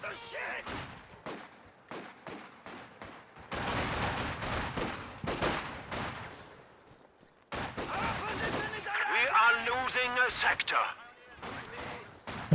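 Machine gun fire in a Master League strategy game match, bursts of gunfire clustered in dense stretches with gaps between, mixed with other battle noise and a voice talking over it.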